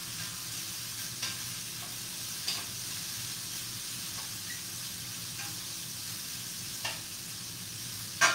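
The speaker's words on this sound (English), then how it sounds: "We're gonna let that saute 1 minute more." Apples and onions sautéing in a pan, a soft steady sizzle and hiss heard close, broken by a few light stirring taps spaced several seconds apart and a sharper clink at the end.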